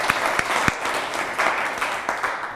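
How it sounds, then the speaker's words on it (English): An audience claps in a short, steady burst of applause at a session on ComponentOne XAML controls, moderately loud and without talk over it. "So round of applause, Russ Fustino."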